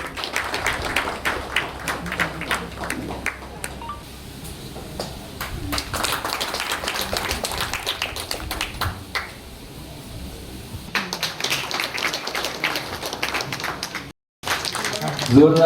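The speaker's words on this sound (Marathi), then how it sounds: "जोरदार टाळ्या" Loud, dense clapping from a gathered crowd at a temple felicitation ceremony during a Hindu temple renovation celebration, sustained for about fourteen seconds, then a brief break and another burst of applause.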